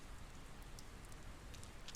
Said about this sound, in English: It began raining.